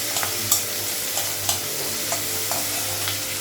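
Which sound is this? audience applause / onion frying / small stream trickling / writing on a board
onion frying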